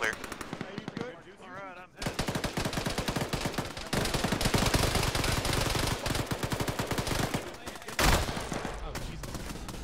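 Dense machine-gun bursts and rifle fire crackle in a military video game, loud and nearly continuous, with short pauses and a heavier burst near the end.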